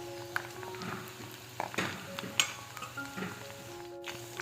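Squid fries in a pan, the oil sizzling steadily while utensils scrape and clink against metal now and then, close and moderately loud.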